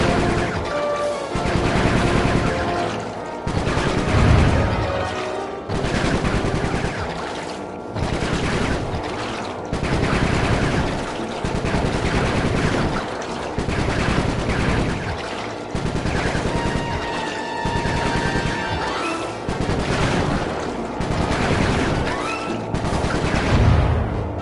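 Rapid bursts of gunfire from the video game Sly 3: Honor Among Thieves, dense and loud, with repeated volleys and impacts recurring throughout over continuous game sound.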